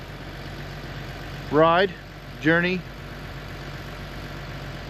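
A John Deere 3039R compact tractor idles with a steady low rumble that runs under the whole stretch, while someone talks close by in two short bursts.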